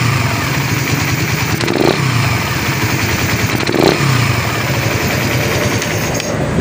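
Suzuki Raider 150 Fi motorcycle at 6,500 km odometer, engine idling close up with a loud, steady, rough mechanical clatter and two slight swells in revs.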